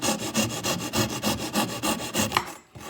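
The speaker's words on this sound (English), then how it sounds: "we're using the Irwin saw that cuts on the drawback, and it's made to cut small pieces and trim things up" An Irwin pull saw trims a small piece of wood for a shoe and coat rack, giving a steady run of quick, close rasping strokes in an even rhythm that stops abruptly near the end.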